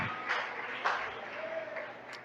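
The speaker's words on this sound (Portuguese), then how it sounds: "E que as palmas louvem ao Senhor." A church congregation claps in praise at the end of a prayer during a service: a faint, steady wash of many hands clapping, heard from a distance with a few sharper swells.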